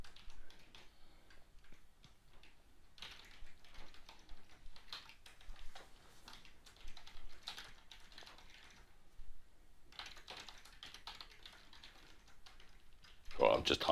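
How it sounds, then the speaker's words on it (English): Someone types on a faulty computer keyboard in quick, irregular bursts of soft clicks with short pauses between them, ending in a louder clatter. "I'm just typing"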